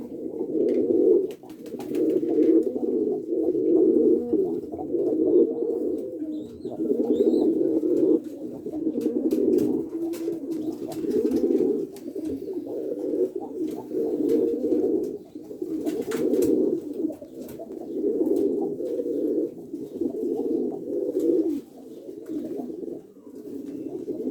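Pigeons, four males kept as pets, coo steadily in a rhythmic series of pulsing calls, close and fairly loud, with no talking over them.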